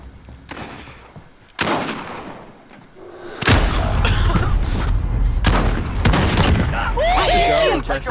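Gunfire in a Call of Duty Modern Warfare match: scattered shots early, then a loud sustained barrage of rapid shots and booms with players shouting over it.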